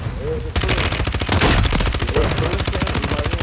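Rapid automatic gunfire from a Call of Duty match bursts in after a short quiet start and keeps up a loud, dense rattle of shots, with players' voices talking over it.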